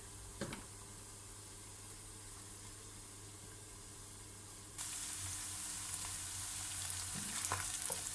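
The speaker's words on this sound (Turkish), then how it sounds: "Soğanımız kavruldu kıymamızla" Chopped onions and minced meat fry in a pan with a steady, close sizzle that swells suddenly louder partway through, with a few faint stirring scrapes.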